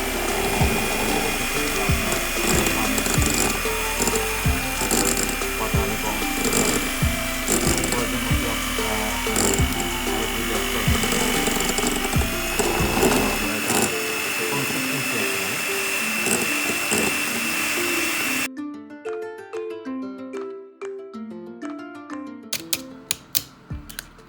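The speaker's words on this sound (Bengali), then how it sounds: "এইভাবে আপনি ব্লেন্ড করে নেবেন।" Blender whirring loudly and steadily as it blends filling ingredients for butter buns, a continuous buzzing motor drone that cuts off abruptly near the end, leaving brief clatter and quieter handling sounds.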